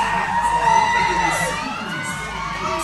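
A wrestling event crowd at a pro wrestling pay-per-view cheers and whoops steadily, with shouting voices layered throughout a loud, continuous roar.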